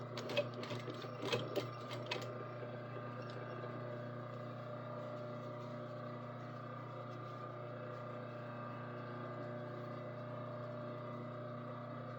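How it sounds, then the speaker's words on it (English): A sewing machine stitches along the edge of a fabric button row, a close steady mechanical hum with a few clicks and thumps at the start, running alone without talk. "So it's going to be stitched right along that edge."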